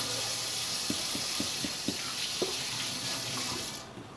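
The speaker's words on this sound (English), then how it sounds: "wash my hands" Hands being washed at a sink under a running tap, a steady close hiss of water with irregular light splashes and clicks as the hands move through the stream, stopping near the end.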